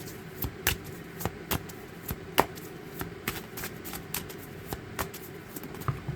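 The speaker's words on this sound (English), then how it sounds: "I can always tell when the deck is ready when I'm shuffling." A deck of tarot cards being shuffled by hand, with a run of crisp riffling and tapping bursts recurring irregularly at close range, no talk over it.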